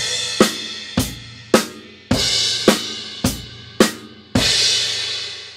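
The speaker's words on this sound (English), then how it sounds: "which is adding a crash cymbal, and it sounds like this." A beginner quarter-note drum beat on a kit with a crash cymbal, steady evenly spaced hits of kick and snare under a bright, sustained cymbal wash, close and loud with no talking.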